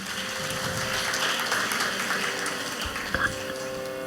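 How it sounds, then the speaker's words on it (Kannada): An audience at a dance festival applauds child dancers after their performance, a steady wash of clapping that sounds somewhat distant and holds evenly across the whole stretch. "ಎಲ್ಲ ಪುಟಾಣಿಗಳಿಗೂ ಮತ್ತೊಮ್ಮೆ ನಮ್ಮ ಚಪ್ಪಾಳೆಯಿಂದ ಪ್ರೋತ್ಸಾಹಿಸೋಣ"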